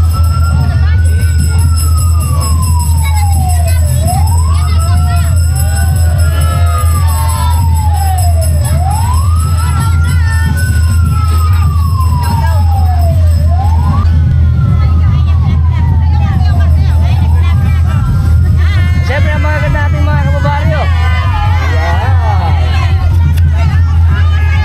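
A Calumpit rescue team ambulance siren wails loudly in a repeating rising-and-falling sweep during a street procession in Calumpit, Bulacan, over a low engine rumble and crowd babble, with a faster yelp pattern near the end.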